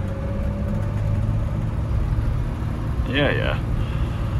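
BMW E30 325is engine running rough on Megasquirt tuning, a steady low drone heard from inside the car while driving, with a brief voice over it.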